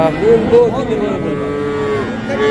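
Calves at a livestock market lowing loudly and close by, several drawn-out moos rising and falling in pitch over a busy background murmur of the market.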